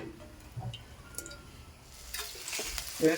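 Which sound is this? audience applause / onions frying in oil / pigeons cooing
onions frying in oil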